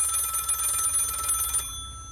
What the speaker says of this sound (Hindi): सुबह टेलीफोन के बार बार बजने से उनकी नींद खुली